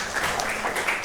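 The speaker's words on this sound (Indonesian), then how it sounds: "beri tepuk tangan dulu" A classroom group claps briefly, a short burst of soft, scattered applause at moderate volume.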